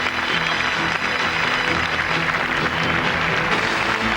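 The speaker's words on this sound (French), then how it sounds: "On va les applaudir encore plus fort." A televised French sports awards ceremony in 1991, with the audience applauding champions from many disciplines; sustained, loud, even clapping from a large crowd with a faint music bed underneath.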